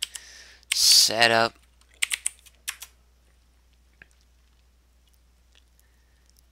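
Someone types on a computer keyboard while setting up the Unix-based Minix operating system. A brief spoken word comes first, then a short run of sharp, close key clicks before quiet.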